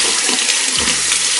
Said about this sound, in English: We'll just rinse it off with cold water.